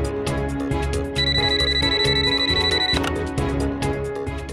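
A telephone rings in a steady electronic tone over background music in a Hindi TV drama scene, with repeated ring bursts and no talk.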